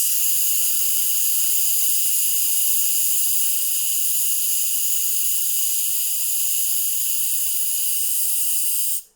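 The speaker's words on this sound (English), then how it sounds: "So we're going to continue our steam release." Steam release from a Kuhn Rikon pressure cooker making risotto, a loud steady high hiss that holds constant for about nine seconds and then cuts off abruptly at the end.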